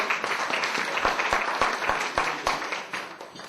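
Wedding guests applauding at a reception speech, a moderate burst of clapping that gradually fades out over a few seconds.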